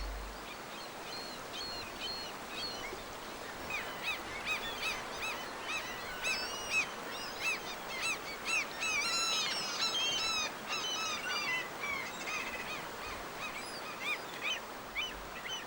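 Gulls call repeatedly along a riverbank where bears feed, a chorus of harsh honking cries at middle distance that grows busier halfway through, over steady outdoor ambience.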